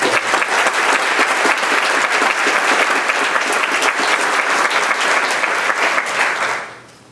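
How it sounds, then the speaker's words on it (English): An audience at a school retirement celebration breaks into loud, sustained applause, with dense clapping holding steady for several seconds before it quickly fades out. "we owe him, even before he comes up, a huge round of applause for what he's done"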